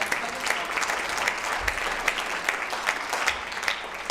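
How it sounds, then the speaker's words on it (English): An audience at a philanthropy and Sustainable Development Goals event gives a round of applause, with dense, even clapping throughout and a few louder individual claps standing out near the front. "give him a round of applause"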